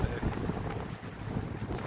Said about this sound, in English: You can probably hear that wind blowing